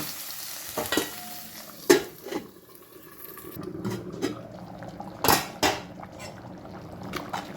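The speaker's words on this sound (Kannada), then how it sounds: "ನಾನೀಗ ಇದಕ್ಕೆ ಒಗ್ಗರಣೆಯನ್ನು ಸೇರಿಸ್ಕೊಳ್ತೇನೆ" A spice tempering is added to unripe jackfruit sambar simmering over a low flame, giving brief sizzles, spoon scrapes and metallic pot clanks in scattered bursts between quieter moments.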